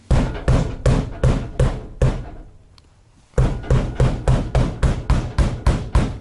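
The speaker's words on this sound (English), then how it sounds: "I can hammer on it just as hard as I did that roof" A hammer pounds on the roof of a 2020 Rockwood 2604 WS travel trailer in a fast, steady series of hard, close thuds, pausing for about a second before resuming the same even rhythm.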